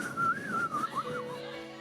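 A person whistles a wavering, sliding melody at close range, the tune rising and falling over a soft background murmur.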